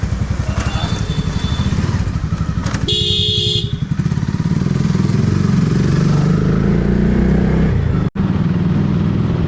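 A Honda CBR 650R motorcycle engine rumbles and revs close by with a deep exhaust note, interrupted by a brief horn blast and road clatter amid other traffic.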